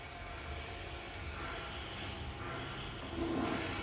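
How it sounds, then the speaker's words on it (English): A subway train rumbles with a steady, low, continuous roar that rises slightly toward the end, heard alone in an animated dinosaur show. "The subway sure can get pretty loud, huh?"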